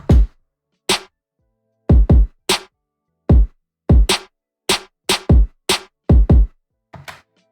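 A programmed trap drum beat built in Ableton, with punchy kick and snare sample hits in a clean, evenly spaced pattern of single and doubled strikes, loud and dry with silence between hits.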